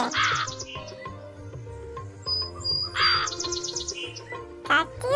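A cartoon crow gives a few harsh caws in short bursts over light background music and other animated sound effects.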